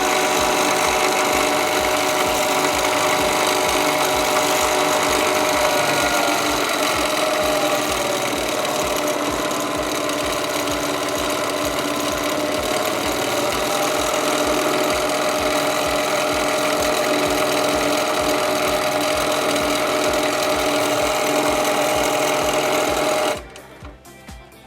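A sewing machine runs continuously while quilting at a set speed of about 1250 stitches, a loud, even mechanical whir with a fast steady beat that holds for over twenty seconds before cutting off near the end.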